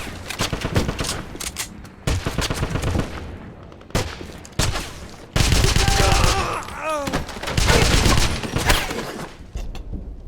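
Dense gunfire in the Wolfenstein video game, rapid machine-gun bursts and loud shots crowding together in close, heavy volleys, with shouted voices mixed into the battle noise.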